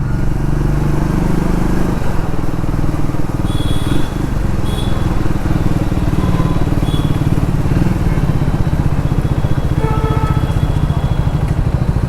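Triumph Speed 400 motorcycle engine running steadily while riding through city traffic, a loud continuous drone with slight rise and fall, close to the microphone.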